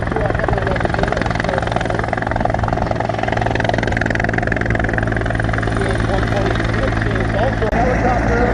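A military helicopter from 403 Helicopter Operational Training Squadron performs at Air Show Atlantic in Debert, its rotor and engine drone loud and steady throughout, with an announcer's voice over the noise.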